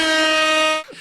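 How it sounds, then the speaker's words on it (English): A loud, sustained air horn blast used as a sound effect, holding a steady brassy tone for nearly a second before cutting off abruptly, with no talk over it. "put an air horn in there for me, Todd, please."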